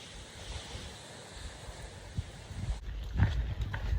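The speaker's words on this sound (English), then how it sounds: "It's windy" Steady wind roars across an open microphone on a mountain top, a broad gusty rush that swells louder near the end with a few low buffeting thumps.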